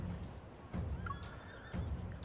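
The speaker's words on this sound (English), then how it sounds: "Hooves thunder and wheels rumble as a long, disciplined procession rolls in." Horses' hooves from a carriage procession in the video game Love & DeepSpace, heard as faint rhythmic thuds with a neigh mixed into background rumble.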